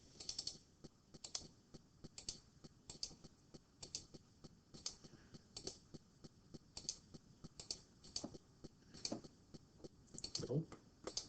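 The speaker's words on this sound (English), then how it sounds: "type that into your calculator" Fingers tap numbers into a calculator, a steady run of quick light key clicks in irregular clusters, close and quiet, throughout the passage.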